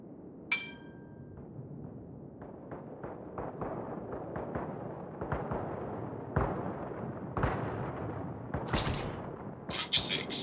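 Anti-aircraft gunfire strikes aircraft in World of Warships while playing the Japanese carrier Ryujo, a steady rattle of sharp reports and bursts, heaviest toward the end, over a rumbling battle bed.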